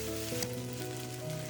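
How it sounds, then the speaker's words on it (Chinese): Noodles tossed with chives in a hot wok give a steady, close sizzle with scraping stir-fry strokes and a brief louder toss near the start, with no talking. "加入韭菜，再快速翻炒一下。"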